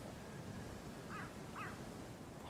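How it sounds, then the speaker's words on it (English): A crow caws twice, faint and distant, over a steady wash of background noise with no talking. "that was a plain old crow"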